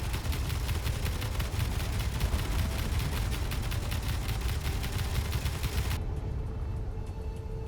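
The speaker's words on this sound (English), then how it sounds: "Oh, that is a lot of gunfire." Dense, continuous bursts of rapid gunfire roar without pause in Space Engineers, loud and sustained, with a rumbling low end and no voices.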